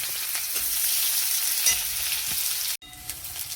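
Chopped onions sizzle loudly in a hot pan of oil, a dense steady hiss with a few stirring scrapes, briefly cutting out before resuming.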